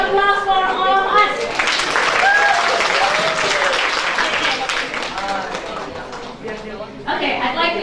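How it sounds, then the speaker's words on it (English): Applause from a conference audience fills the room, dense clapping starting after a speaker's voice and lasting several seconds before talk resumes over it. "big applause for all of us."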